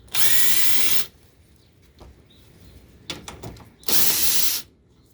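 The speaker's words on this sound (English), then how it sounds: "It's a lot quicker if you use power tools." A power drill whirs loudly in two bursts, about a second each, removing a bracket during a 2012 Toyota Highlander starter replacement, with a few clicks and clatters of tool handling in between.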